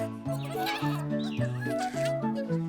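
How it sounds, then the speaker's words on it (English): Goats bleat in an animated children's bedtime story set in the mountains, several wavering cries following one after another under a steady musical backing. "she was amazed at how Peter talked to the goats"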